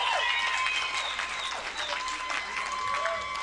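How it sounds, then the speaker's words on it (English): A comedy show audience claps for veterans and military members, sustained dense applause with some cheering and whoops on top, close and lively throughout. "Round of applause for our veterans, our military out there."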